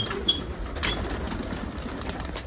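Pigeons coo faintly in a new loft amid steady background noise, with a brief rustle of movement partway through.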